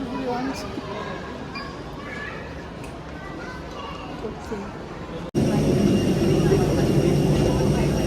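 Chatter and murmuring fill a quiet airport boarding area, then a steady, loud jet-engine roar of an IndiGo airliner suddenly takes over and continues.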